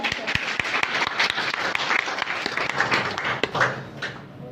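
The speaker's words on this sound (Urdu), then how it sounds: "آپ کی بھرپور تالیوں میں فریدہ اختر۔" An audience at a women's empowerment certificate ceremony applauds a recipient, with steady dense clapping sustained throughout and a few sharper individual claps standing out.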